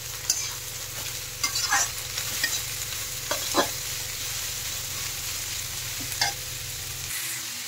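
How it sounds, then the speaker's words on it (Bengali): Noodles and vegetables are stir-fried over a high gas flame, a steady sizzling hiss punctuated by several sharp spatula scrapes and clacks against the pan, with the frying noise cutting off abruptly near the end and no voices. "দিয়ে এগুলো ভালোভাবে নেড়ে চেড়ে মিশিয়ে দিতে হবে। আর গ্যাসের ফ্লেমটা কিন্তু হাই রাখতে হবে।"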